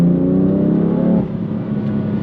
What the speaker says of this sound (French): le bruit est extrêmement présent au volant de cette M3 en mode Sport Plus avec l'échappement ouvert